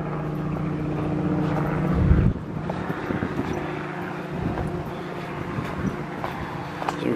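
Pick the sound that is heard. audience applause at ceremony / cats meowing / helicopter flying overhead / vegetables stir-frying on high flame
helicopter flying overhead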